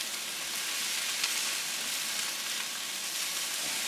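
Eggs, rice and shrimp frying together for shrimp fried rice, a steady dense sizzle that holds evenly close by with no pauses or voices.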